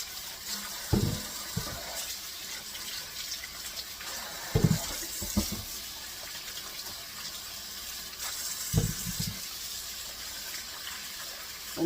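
Beets rinsed one by one under a running sink tap to wash off sand, a steady hiss of water with a few louder splashing bursts as the roots are handled, no talking.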